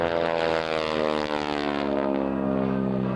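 A 2.5-ton propeller aerobatic airplane performing at the 2004 Dover AFB air show gives a loud, steady droning engine note with a strong harmonic buzz, its pitch shifting slightly as it pulls through a manoeuvre.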